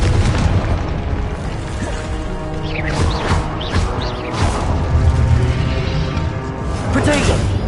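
A Confringo explosion spell cast in the Hogwarts Legacy video game, loud booming blasts and crackling bursts over dense continuous combat noise, with a voice calling out spells.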